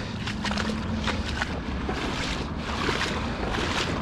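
Floodwater flows fast around a rider, a near, continuous rushing wash mixed with wind buffeting the microphone.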